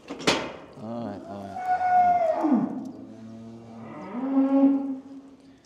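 White Park cattle mooing loudly and close by while a collar is fitted, with a long bellow that rises and falls, a pause, then a second deep moo. A sharp knock sounds at the start.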